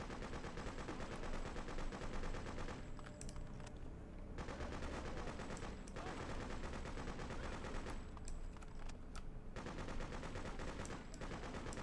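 Revolver gunfire in the Freedom Fighters video game, sharp shots and bursts recurring through a dense, continuous game soundscape, some separated by brief quieter gaps.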